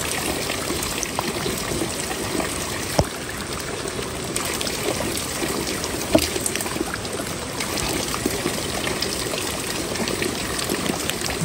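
A fresh mountain stream on the Toli Peer crossing in Kashmir trickles and splashes steadily in heavy rain, a close, constant wet rush with no voices.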